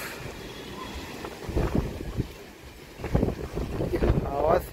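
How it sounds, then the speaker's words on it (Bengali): Strong gusts of wind from Cyclone Remal roar outdoors in surging waves, buffeting the microphone loudly and rising and falling over several seconds. "হাওয়া স্পিড।"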